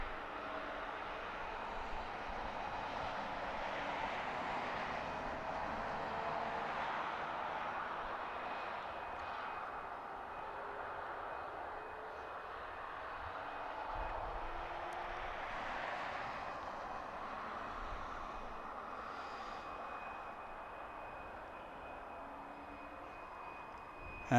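An aeroplane approaching to touch down at an airport rumbles in a broad, distant roar that swells and eases gradually over a long stretch, with no talk heard.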